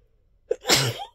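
One close, loud human sneeze: a sharp intake, then a forceful burst of breath that tails off quickly in a quiet room.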